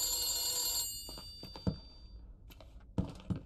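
An old-style telephone bell rings in the video game The Beast Inside, a sustained ring that cuts off, followed by a few soft thunks and knocks.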